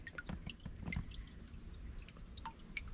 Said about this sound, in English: some water dripping down from above